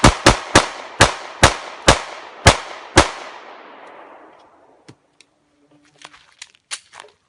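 Ten pistol shots ring out at a target in a quick, even sequence, each a sharp, loud crack with a trailing echo that fades over about a second, followed by scattered faint clicks and small noises.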